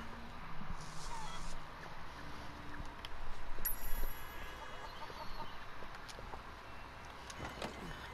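Chickens cluck inside a van in the video game Sleeping Dogs, clucks and squawks scattered over a steady vehicle rumble with occasional clunks and a thin high whine, fairly faint throughout.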